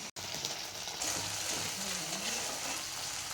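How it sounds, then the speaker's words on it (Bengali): Ginger, cumin and green chilli sizzling in hot oil, giving a soft, steady hiss that stays faint and even throughout. "আদা জিরে আর কাঁচা লঙ্কা আছে, এটা তেলের মধ্যে দিয়ে দিলাম।"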